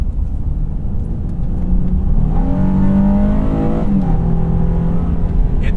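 2021 Honda Ridgeline's naturally aspirated V6 accelerating from inside the cab, a steady engine drone whose pitch climbs and then drops back as it shifts, loud and continuous throughout.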